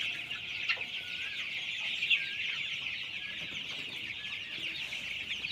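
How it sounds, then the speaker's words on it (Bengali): Many Sonali chickens cluck and chatter together indoors in a poultry shed, a steady busy flock sound with occasional louder calls, no talking. "মুরগিগুলো অনেক ফাঁকা ফাঁকা রয়েছে দৌড়াদৌড়ি করছে"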